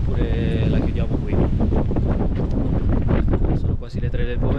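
Strong wind gusting at an outdoor sport-climbing crag as the weather turns worse, a steady loud roar buffeting the microphone throughout.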